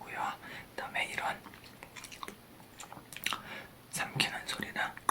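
Small wet mouth clicks, swallowing and soft lip sounds picked up close by an LG V50S ThinQ phone in ASMR mode, coming in quiet bursts mixed with whispered breathy sounds.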